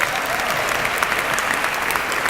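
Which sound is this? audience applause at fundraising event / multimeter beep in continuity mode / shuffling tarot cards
audience applause at fundraising event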